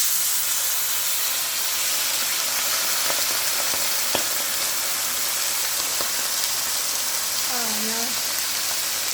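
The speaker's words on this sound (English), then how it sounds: "Allow the wine to bubble away." Cheap white wine bubbles and sizzles in a hot pan with pork belly, a steady broadband hiss of frying and steam, with brief clinks and a short voice-like sound near the end.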